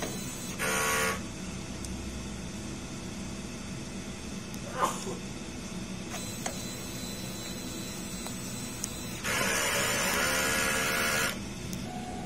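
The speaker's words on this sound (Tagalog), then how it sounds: "Head clean naman tayo. Pindutin natin yung clean, normal," A DTF printer runs a print head cleaning cycle, with a low mechanical hum punctuated by a few short whirring bursts of the pump and carriage, near and moderately loud, no speech.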